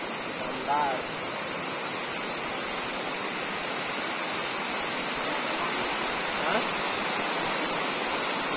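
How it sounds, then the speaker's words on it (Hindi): Steady, dense rushing of falling water at Lapanga waterfall fills the scene without pause, a constant roar with faint voices barely surfacing. "झरना पूरा बह रहा है"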